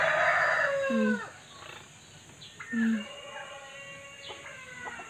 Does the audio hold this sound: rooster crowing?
yes